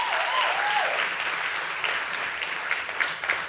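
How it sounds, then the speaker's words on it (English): Audience applause at a live season finale of an insurance apprentice competition, a dense, continuous wash of clapping from a crowd filling the whole stretch, with a brief voice or whistle near the start. "Round of applause"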